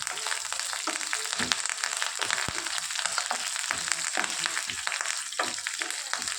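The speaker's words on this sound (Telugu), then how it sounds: "కొద్దిగా కరివేపాకు పచ్చిమిర్చి ముక్కలు కూడా వేసుకుందాం తాలింపులో" Curry leaves and chopped green chillies crackle in hot tempering oil for a lentil dish, a loud continuous sizzle close up with irregular pops and light stirring throughout.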